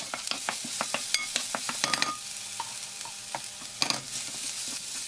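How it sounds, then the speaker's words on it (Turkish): Finely chopped onions sizzle in oil in a frying pan, a close hiss broken by repeated scraping and stirring strokes, with no voices. "Tavaya biraz sıvı yağ alıyorum ve ince doğramış olduğum soğanları ekliyorum,"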